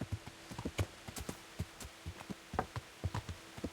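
A horse's hooves clip-clop in a steady rhythmic trot in the medieval video game Kingdom Come: Deliverance, with a faint hum underneath.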